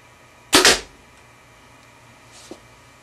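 A bow shot fired as a control test with no added dampening accessories: one sharp, loud twang-and-thump of the arrow leaving the string, followed by a faint distant impact a couple of seconds later.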